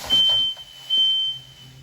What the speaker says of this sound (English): the fire detector works